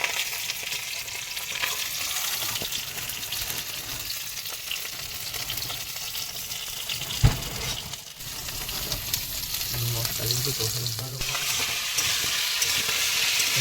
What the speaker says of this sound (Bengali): মশলা দিয়ে আলু কষানো হচ্ছে